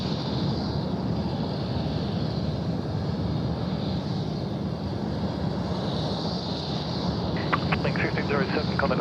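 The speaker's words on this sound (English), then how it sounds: "Air China 174 service is just getting out on the active runway at the northern end here at 16 right" An Air China airliner lines up on runway 16 right at Sydney Airport at night, its jet engines giving a continuous loud roar and whine with a steady, unbroken tone from a moderate distance.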